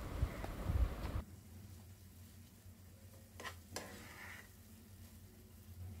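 Pineapple sheera (sweet semolina pudding) is stirred and roasted in a pan, with a louder burst of scraping at the start, then a soft, steady sizzle and a few faint scrapes.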